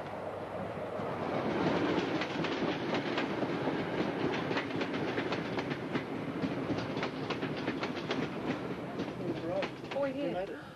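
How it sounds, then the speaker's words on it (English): An XPT passenger train rolling into Sydney Central Station, heard from inside the carriage: a continuous rumble with rhythmic clickety-clack of wheels over rail joints and squealing tones near the end, with a public-address announcement over it. "Tucker XPT will shortly arrive at Sydney Central Station and terminate"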